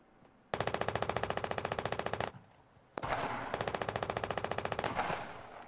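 Rapid machine-gun style bursts in the Fortnite Battle Royale video game, two long sustained volleys of evenly spaced shots with a short gap between, loud and close with no talking.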